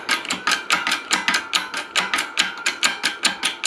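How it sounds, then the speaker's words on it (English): A press ram sets rivets on a Yugo M72B1 rifle receiver, making a fast, even run of sharp metallic clicks and knocks, close and loud, with no talk. "we got everything over here on the press pretty much lined up for the most part. So, we just need to get that under the ram,"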